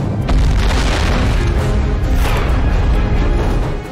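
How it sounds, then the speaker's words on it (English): A rocket is blown apart by its automatic self-destruct system, producing a loud, sustained booming explosion that rumbles heavily and continuously for several seconds with no speech. "This engages the automatic self-destruct system, and the rocket is destroyed."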